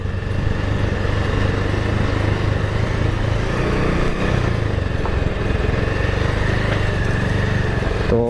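Continuous, steady drone of a motorcycle engine running close by, loud and unbroken throughout, with faint background noise.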